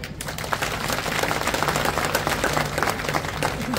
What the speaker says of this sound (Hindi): अरे प्रताप राव जी के लिए ऐसी तालियां बजती हैं